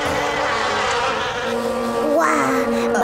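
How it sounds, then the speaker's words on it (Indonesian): Cartoon flies buzz steadily around potato chips in an animated barbershop, a continuous insect drone that stays loud throughout and rises in pitch near the end. "Semua lalat berkumpul di sekitar pangkas rambut keripik kentang."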